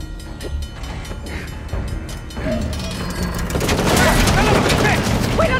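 An approaching train in the video game Uncharted: The Lost Legacy, building from rattles and clanks into a loud, dense rumble of rolling wagons, with gunfire and people talking.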